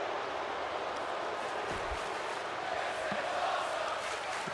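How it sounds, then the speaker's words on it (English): Arena crowd noise from a WWE 2K25 wrestling match, a steady broad roar of spectators with a rhythmic chant swelling underneath, loud and continuous throughout with faint thuds. "Crowd chanting, "This is awesome."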